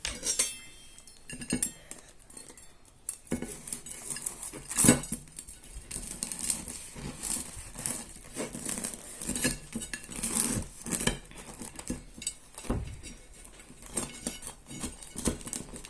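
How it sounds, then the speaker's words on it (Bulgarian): A knife slices through fresh bread on a plate for a sandwich, giving close scraping strokes mixed with light clinks and taps of metal on china, uneven and continuous. "Сега ще разрежа хляба."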